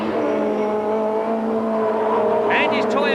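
In-car engine drone from Andy Rouse's Toyota touring car racing in the 1991 British Touring Car Championship, a steady loud engine tone with harmonics, with a short tire squeal near the end and a commentator talking over it.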